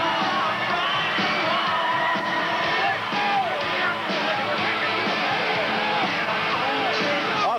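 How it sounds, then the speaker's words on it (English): A packed wrestling arena crowd roars and cheers for Hulk Hogan at a tag-team match, a loud, dense wall of yelling and whooping that holds steady throughout. "Crowd on its feet, acknowledging the champion."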